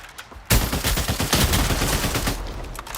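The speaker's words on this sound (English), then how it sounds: "annoyingly sniping him from a distance" Sniper rifle fire in a video game arrives as a sudden loud blast, followed by a dense rattle of rapid shots that fades out over a few seconds.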